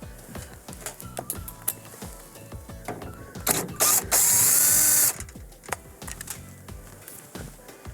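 Small mechanical clicks and a ratcheting screwdriver working the T10 screw out of the door interlock of a Whirlpool microwave, rapid close ticks with a brief louder whirring burst in the middle.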